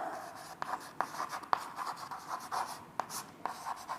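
A teacher writes on a board during a chemistry lesson, a steady run of close scratchy strokes punctuated by sharp taps, quiet and alone.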